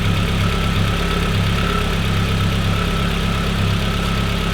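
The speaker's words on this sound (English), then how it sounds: "This thing's idling nice and pretty." An Audi drift car with a built motor and hybrid turbo idles loud and close, a steady rumbling drone that holds even throughout, with no talk.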